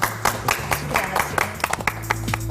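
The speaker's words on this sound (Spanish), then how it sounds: "Un aplauso para ustedes." A live audience at a talk on humanizing cancer care applauds, a loud close burst of many hands clapping at an uneven rhythm for a couple of seconds.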